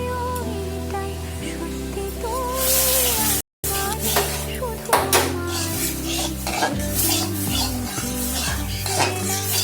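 A spoon scrapes and clatters in a kadai as a coconut kheer filling with sugar and cardamom is stirred over a high gas flame, with repeated metallic knocks and a light sizzle, close and fairly loud.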